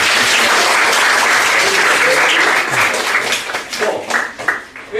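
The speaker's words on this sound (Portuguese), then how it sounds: "Ele merece uma salva de palmas." An audience at a book presentation bursts into loud, dense applause that thins and tapers off toward the end.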